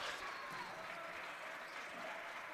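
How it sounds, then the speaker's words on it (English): The crowd at a boys varsity high school basketball game applauds and cheers steadily throughout, a dense continuous wash of clapping heard from a moderate distance. "Crowd getting into it."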